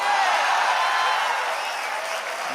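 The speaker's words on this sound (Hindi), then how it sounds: "मतलब इस पूरे कवि सम्मेलन में आपकी तालियां वही काम कर रही हैं जो अनूप जलोटा के लिए जसलीन" Audience applause at a Hindi kavi sammelan poetry event in Indore, a dense, loud wash of many hands clapping together that holds steady and then slowly tapers off slightly toward the end.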